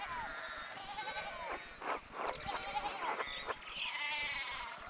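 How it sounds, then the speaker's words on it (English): Sheep bleat repeatedly in the Pentiment video game, several overlapping wavering calls at moderate distance over a soft steady ambient bed, with no talk. "One of the fence rails fell and the sheep started hopping it."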